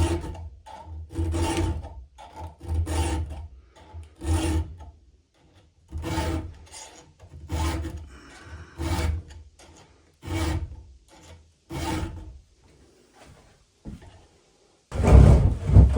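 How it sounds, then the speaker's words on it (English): A file rasps across chainsaw chain teeth in repeated close, rhythmic strokes, each about a second long, with brief pauses between sets and a louder clatter at the end. "Okay, so now I have gone through and sharpened all teeth."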